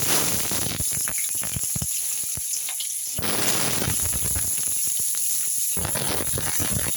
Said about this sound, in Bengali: এখন দেখুন এই তেলটা গরম হয়ে গেছে এই গরম তেলের মধ্যে আমি